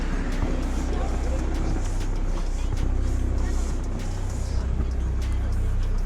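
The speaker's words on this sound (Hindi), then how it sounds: "मैं अभी बोला कि एकदम से इंजन ने लोड कैसे लिया स्टार्ट होते ही" A 2020 Mahindra Thar diesel engine idling after a cold start following an overnight snowfall, a steady low rumble that runs throughout, with people talking over it nearby.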